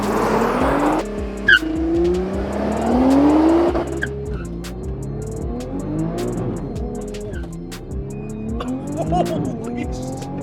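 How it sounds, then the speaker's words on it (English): Nissan GT-R R35 50th Anniversary Edition launching under launch control: the engine revs hard and climbs through rapid gear changes, loud and close, with a brief tire chirp and excited voices shouting over it. "we're about to test out the launch control on the R35 50th anniversary"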